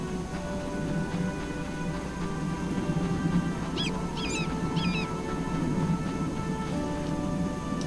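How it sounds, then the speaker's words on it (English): A few short honking bird calls ring out in The Witcher, faint and brief over a steady ambient drone. "Ooh, birds."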